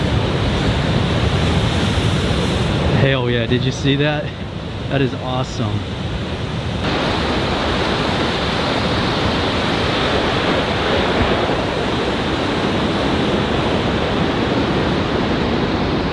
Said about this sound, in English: The big old waves crashing.